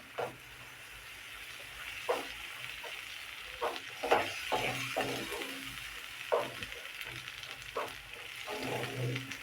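Tomato paste goes into a pan of fried masala for paneer tikka masala, sizzling steadily while a spoon scrapes and stirs in irregular bursts, close and moderately loud with no talking.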